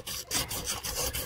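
Fine 400-grit sandpaper rubs rapidly back and forth against a chainsaw cylinder port, chamfering it, a soft rhythmic rasping up close, with no voices.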